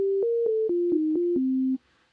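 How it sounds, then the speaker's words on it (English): Pure sine-wave tones from a DX7 V synthesizer with a single operator play a short stepped sequence of eight clean notes, each beginning with a soft click, and the last note is held before it cuts off. "It's just a sine wave."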